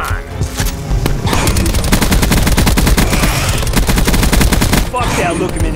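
Gunfire in Call of Duty: Black Ops 4: loud, rapid automatic bursts with dense repeated shots, briefly broken by a pause, while a voice speaks underneath.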